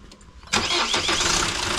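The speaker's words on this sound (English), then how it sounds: "Let the engine run for 15 seconds." A GWM Cannon engine, just refilled with fresh oil after an oil and filter change, cranks briefly and fires into life, then settles into a steady, close idle.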